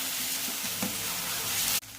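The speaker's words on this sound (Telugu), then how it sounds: "కొద్దిగా అల్లం వెల్లుల్లి పేస్ట్ కూడా వేసుకుందాం." Ginger garlic paste fries loudly in a pan for a curry, a dense continuous sizzle with faint stirring scrapes that drops away abruptly near the end.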